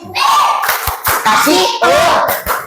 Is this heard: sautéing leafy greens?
no